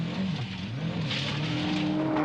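A rally car on a 1995 Mintex National Rally Championship stage spins with its engine revving up and down in wavering tones while the tyres scrub and skid over the surface, heard close and steady throughout.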